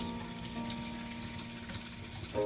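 Water pours faintly and steadily out of a bottle in a homemade Christmas tree waterer setup, a soft continuous trickle with no talk.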